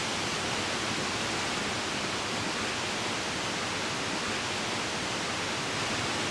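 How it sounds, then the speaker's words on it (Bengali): Khandadhar waterfall cascading down rocks, a steady, dense roar of falling water that fills the whole scene with unbroken broadband rushing, close and loud, with no voices. "ওই যে পেছনে আমার ঝর্ণা ওই ওপর দিয়ে নামছে"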